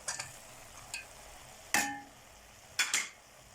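Liver sautés with colored peppers in a pan, a soft steady sizzle broken by a few sharp scrapes and clinks of a stirring utensil, with no one talking.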